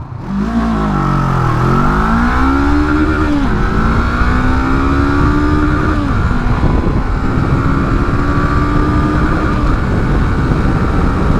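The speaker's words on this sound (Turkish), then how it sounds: "şimdi motoru sıfırdan kaldıracağım. Bakalım motorumuzun gidişi nasılmış." A Honda CB500 Hornet motorcycle accelerates hard from a standstill on an open road. The engine note climbs and falls back through several quick gear changes, loud and close, with no talk.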